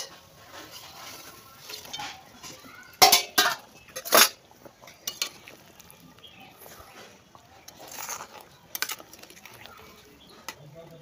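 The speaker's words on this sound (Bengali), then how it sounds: "এখন মাছগুলো সব দিয়ে দিব।" Fish going into a cooking pot of water, with sharp metallic clinks and clatter of the pot and utensils around three to four seconds, then softer scattered knocks and handling sounds.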